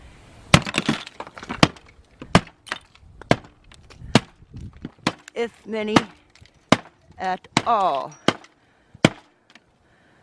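Icicles are knocked down from a snowy roof edge in winter, a rapid series of sharp cracks, snaps and tinkling icy breaks, close and loud, with a voice speaking briefly among the impacts.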